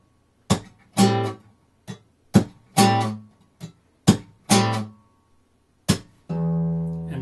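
Slowly played guitar pattern from a song: percussive slaps alternating with light up-plucks, about eight hits spaced out, ending on a ringing open chord, close and alone.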